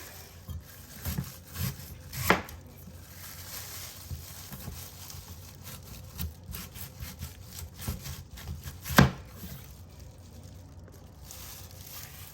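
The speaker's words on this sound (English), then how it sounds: "I'm just gonna start to cut the yam so I can peel it." A knife cutting through a yam, quiet rough scraping and rubbing strokes with a few sharper cracks as the blade breaks through, close and fairly faint, with no voices.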